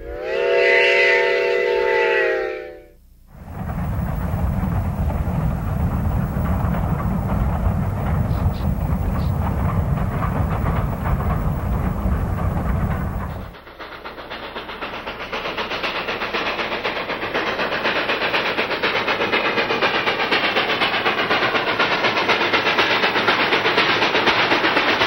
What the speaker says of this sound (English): a freight train, double-headed, arrives in Antonito